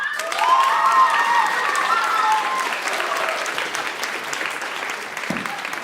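An audience at the Slovenska nota 2017 final evening claps and cheers loudly, sustained applause that gradually thins out toward the end.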